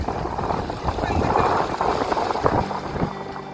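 A fishing boat returning from the sea into the river at Ponnani, its engine droning steadily across the clip amid wind and water noise, with talk over it.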